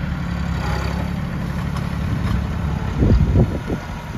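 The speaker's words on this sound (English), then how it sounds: "So we put the tractor in four-wheel drive." A tractor engine in four-wheel drive, in a potato plot, idles steadily with a low rumble, then briefly revs louder near the end before settling again.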